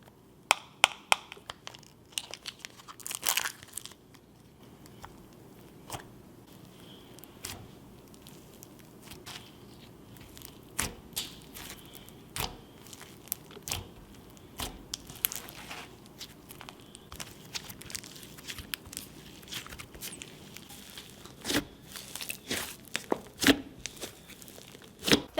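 DIY jelly slime is squeezed and pressed by hand, giving a long run of irregular crackling pops and sizzles, close-up and soft to moderately loud with no talk.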